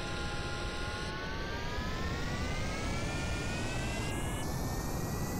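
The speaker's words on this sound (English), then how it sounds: "Rapiers are ready. Hope for the best. Throttling up." RAPIER engines on a single-stage-to-orbit spaceplane in Kerbal Space Program roar steadily, a dense jet rumble with whining tones rising in pitch as the throttle comes up, continuous and loud throughout.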